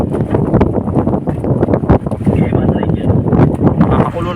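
Gusty habagat monsoon wind roars and thumps against the microphone aboard a boat at sea, with a person talking under the loud blustering noise.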